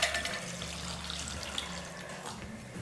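Water runs steadily from a tap into a pot of sambar being made for a vegetarian Diwali lunch, a continuous close splashing pour with no talk.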